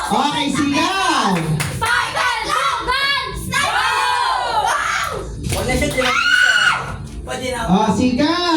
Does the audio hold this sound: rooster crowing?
no